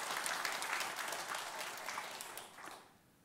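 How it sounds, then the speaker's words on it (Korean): A church congregation claps together during a Methodist worship service, a dense and steady round of applause that fades out over the last second. "우리 모두 다 영광의 박수 한번 올려드리겠습니다."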